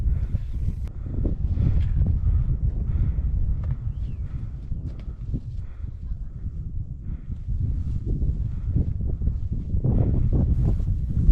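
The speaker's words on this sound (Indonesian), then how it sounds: "angin masih bertiup cukup kencang" Strong wind buffets a summit of Mount Sumbing, a continuous low, gusting roar against the microphone that surges and eases throughout, with no one speaking.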